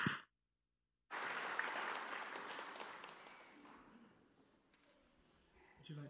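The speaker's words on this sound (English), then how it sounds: "Let's give a round of applause." Congregation applause at an Easter Sunday church service, a brief sound, a short silence, then a burst of full clapping that slowly thins and fades, with a faint voice at the end.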